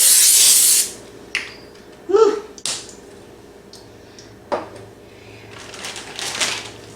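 Cooking spray hisses from a can into an empty pan before pork loin goes in, a bright burst up front that fades out, followed by a few clatters and knocks of kitchen handling.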